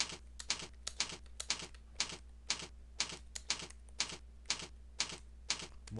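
Steady typing on a computer keyboard, a close series of crisp key clicks in irregular bursts over a faint low hum, with no voices.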